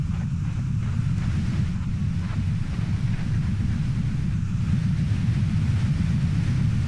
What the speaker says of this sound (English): this wind is blowing at like Mach 12